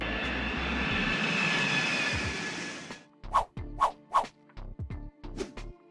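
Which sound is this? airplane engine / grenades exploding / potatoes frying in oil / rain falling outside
airplane engine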